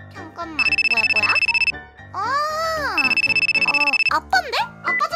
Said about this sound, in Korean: 아빠인데? 아빠 전화다